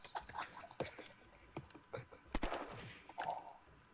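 Gunfire in the Unturned arena mode crackles through a short sequence of sharp, clipped reports, scattered and then clustered, mixed with faint game noise and no clear talking.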